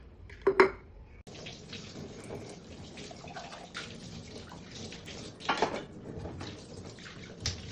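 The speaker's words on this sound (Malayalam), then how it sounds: "ഇനി നമുക്ക് കുറച്ച് വെളിച്ചെണ്ണ അങ്ങോട്ട് ഒഴിച്ചു കൊടുക്കാം" Coconut oil is poured into a pot of fish curry in a home kitchen, giving a soft, close liquid splash and trickle with a couple of louder bursts, fairly quiet overall.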